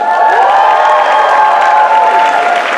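Group of people at a college campus event cheering and clapping together, a loud, continuous burst of applause and shouts throughout.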